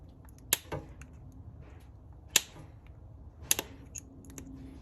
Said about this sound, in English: take our cross cutters here, and I'm just going to trim those up